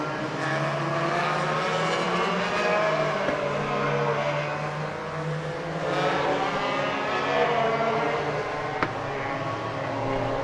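National Hot Rods race cars battle at Hednesford Hills Raceway, several engines screaming and revving together at full throttle, pitch rising and falling as they fight through the final turn, with crowd and track ambience underneath.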